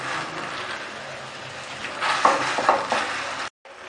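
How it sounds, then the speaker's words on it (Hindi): Khoa melts over high heat in a pan next to a pot of carrot halwa, giving a steady soft sizzle and frying hiss with a few faint stirring scrapes, then a brief cut near the end. "साथ साथ में हम खोए को पिघला लेते हैं"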